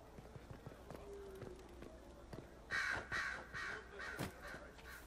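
Crows cawing in the video game Dragon Age Inquisition, several harsh caws in a loud cluster near the end, over faint game ambience and soft background sounds.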